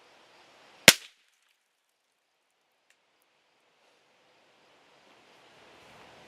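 A single sharp gunshot cracks into a plaster mold, loud and close, followed by near silence and a faint wind-like rush at the end.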